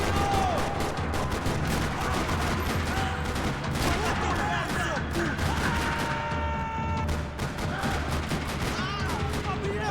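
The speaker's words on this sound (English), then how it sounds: "Another parking lot rattling with gunfire." Rapid, continuous gunfire fills a parking lot shootout in the video game Max Payne 3, dense volleys of automatic and single shots rattling loudly throughout with little let-up.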